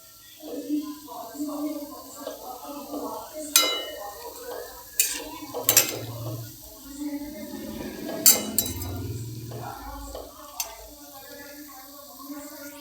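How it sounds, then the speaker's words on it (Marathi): Bhaji fritters fry in a pan of oil with a soft bubbling sizzle, broken by clinks and scrapes of a metal utensil against the pan as they turn. A voice talks over the cooking throughout. "आता अशा पद्धतीने सगळे भजे तळून घ्यायचे"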